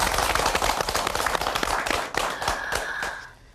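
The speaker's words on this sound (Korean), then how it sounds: "여러분 박수로 맞이해 주십시오" A Korean TV studio audience welcomes a guest with loud, dense clapping that fades out near the end.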